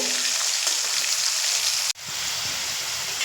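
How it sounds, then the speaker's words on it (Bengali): Dense, even sizzle of salted potatoes frying in hot oil over medium flame, loud and close, with a brief dropout midway before the crackle resumes. "দু থেকে তিন মিনিট মিডিয়াম ফ্লেমে ভেজে নেব"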